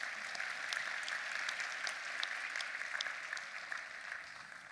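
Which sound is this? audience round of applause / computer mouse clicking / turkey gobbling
audience round of applause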